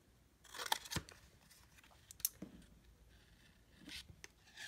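Scissors cut a paper rectangle, two by one inches, to make a DIY craft ticket. A few faint, sparse snips and paper rustles sound close up in a quiet room.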